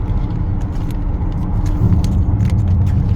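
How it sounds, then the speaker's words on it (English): Steady low road rumble and tire noise inside a moving Jaecoo J7, droning from the rear of the cabin at a constant, fairly loud level with no talking. "There is so much driving noise at the back."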